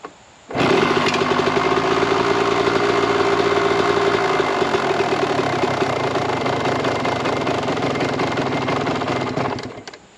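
A 1998 Kawasaki KX125 two-stroke motorcycle engine kicks into life and runs, a loud, close, buzzing ring-a-ding idle that holds steady for several seconds before cutting off.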